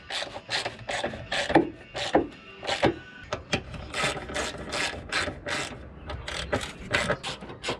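Close ratchet clicking while 10 mm bolts are loosely fitted on a VW Golf MK4 fender, in repeated quick bursts of ratcheting with short pauses between turns.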